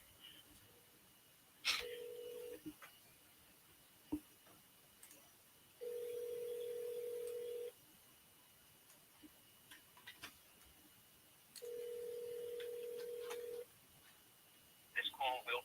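An unanswered telephone call rings out in three long, steady tones separated by pauses, with faint clicks and line noise between them.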